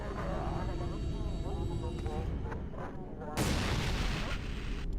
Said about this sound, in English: What's banging on the door?